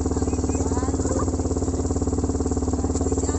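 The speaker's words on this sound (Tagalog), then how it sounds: "si Antang at saka si Simon, isang motor sila" A motorcycle carrying two riders on a road trip in Ilocos runs steadily throughout, a close, loud, continuous engine drone with a regular pulsing throb and no break.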